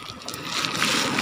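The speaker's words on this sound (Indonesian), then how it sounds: "Wow, ombaknya sangat besar." Large sea waves washing onto a rocky shore at low tide, a loud rushing surge of water and foam building and breaking close by over a second, with no talk.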